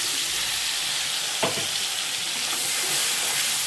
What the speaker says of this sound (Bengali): এবার তেলটা ভালো করে গরম করে নিয়ে সবার প্রথমে আমি দিয়ে দেবো পেঁয়াজটা।